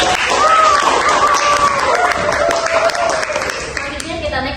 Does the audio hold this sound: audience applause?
yes